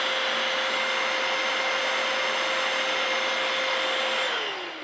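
A Vax Cordless Blade 24V vacuum cleaner runs on boost mode with its brush bar over a sofa: a loud, steady high-pitched whine and rushing airflow close by, dropping in pitch right at the end.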